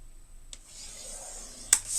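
Paper is scored against a scoring board for a craft project, a short scraping rub drawn along the groove with a small sharp tick near the end, close and fairly quiet.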